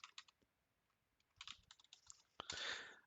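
Someone types a website address on a computer keyboard in quiet, close key clicks that come in short bursts and pauses, ending in a brisk flurry of taps.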